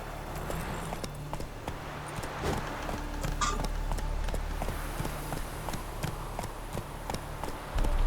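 A horse ridden in The Witcher 3: Blood and Wine clip-clops along at a quick, running pace, its hoofbeats fairly faint beneath a steady rumbling game backdrop.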